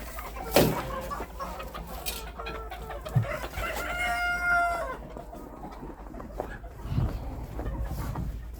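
Chickens and roosters in a winter yard, including mixed hens, Australorps, Cochins and bantams, cluck and cackle close by, with a rooster crowing in the middle and a few sharp sounds, while a person speaks faintly at times.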